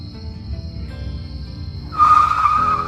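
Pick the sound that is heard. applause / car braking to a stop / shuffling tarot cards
car braking to a stop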